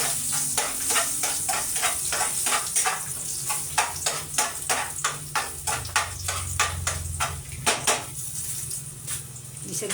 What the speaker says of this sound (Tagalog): Gigisa na ang langka.